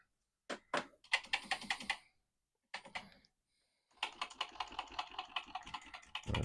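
Keys clacking on an ailing Commodore PET 4016 keyboard in bursts of rapid strokes, with two short pauses and then a longer run of steady typing, close and fairly crisp.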